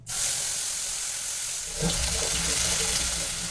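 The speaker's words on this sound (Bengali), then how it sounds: "মিক্সির বাটিটা ধুয়ে একটু জল আমি এর মধ্যে দিয়ে দিলাম" Water rinsed from a mixer grinder jar poured into a cooking pan with onion, tomato and green chilli paste, a sudden splashing gush that runs steadily and then shifts to a bubbling hiss.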